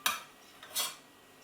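A tablespoon scooping mashed potato for oven-baked potato croquettes, heard as two soft scraping scoops of metal against a bowl, close and quiet, with a pause between them.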